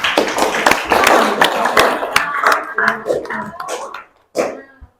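A group claps hands for a presenting team during a teachers' coaching session: a burst of sharp claps mixed with voices that thins out and stops, followed by a brief final sound.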